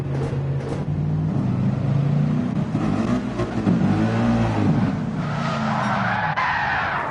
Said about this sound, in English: And his car decides to spin again, so he's having a terrible lap here.